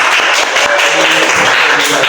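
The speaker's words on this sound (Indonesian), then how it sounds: "Tepuk tangan dong." A burst of loud, close clapping from a small group of university students at a podcast recording, dense and continuous for about two seconds.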